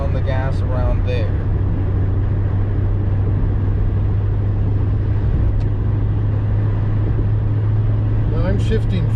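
A Toyota race car engine drones steadily on the Thunderhill Raceway East circuit during an SCCA driver school, a loud constant in-car hum with road noise and brief voices near the start and end.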